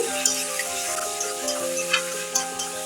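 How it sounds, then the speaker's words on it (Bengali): Olives for a sweet, sour and spicy pickle stirred in a hot pan, with a steady close sizzle of frying and a few light scraping ticks from the spoon, no voices. "জলপাইটাকে ভালো করে নেড়ে চেড়ে মিশিয়ে দিচ্ছি"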